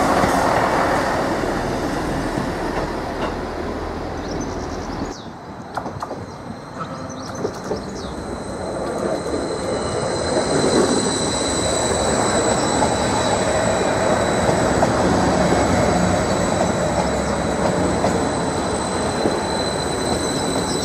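Class 158 unit 158847 rolls into Ely station bound for Norwich, a loud continuous rumble of wheels on rail overlaid by sustained high-pitched wheel squeal that grows stronger toward the end.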